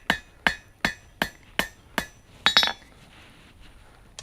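Hammer blows forging a flat taper on the end of a small metal hummingbird feeder hook, seven evenly spaced ringing strikes followed by a quick flurry of lighter taps, close and clear.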